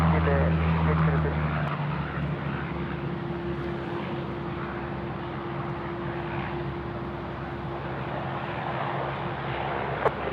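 An airplane takes off at Sydney Airport, its engine roar steady and sustained at a distance, with radio voices talking over it.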